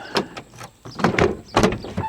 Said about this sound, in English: It's just the indexing of the window.